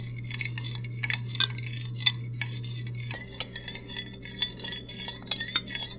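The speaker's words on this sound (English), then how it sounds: "Give it a good stir until it's dissolved in the hot oil" A spoon stirs a mixture through hot oil in a pan, producing quick, repeated metallic clinks and scrapes. A steady low hum runs underneath, and no one speaks.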